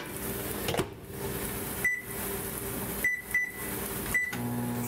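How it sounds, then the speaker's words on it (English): A microwave oven runs with a steady hum while steaming vegetables, broken by several short beeps and brief pauses, close and fairly loud. "I'm kind of steaming them within the microwave really."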